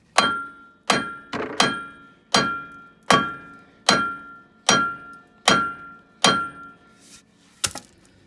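A hammer strikes a front wheel stud on a 2007 Freightliner Columbia truck: about ten sharp, ringing metallic blows in a steady rhythm, close and loud, with no talking.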